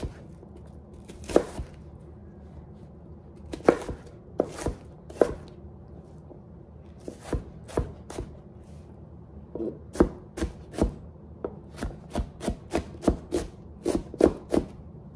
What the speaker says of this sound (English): there's been so many remedies for how to not cry while you're cutting onion.